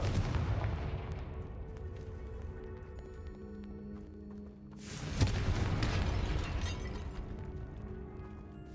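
The Confringo blasting spell goes off in Hogwarts Legacy with a deep rumbling boom that rolls out, then a second blast strikes about halfway through, leaving a sustained low roar and debris rattle.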